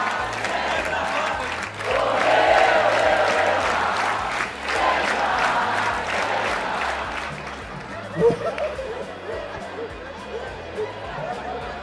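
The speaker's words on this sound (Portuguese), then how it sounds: "Palmas pro César, velho." A small group claps and cheers for César, lively applause mixed with chatter and shouting voices that fades after several seconds into scattered talk.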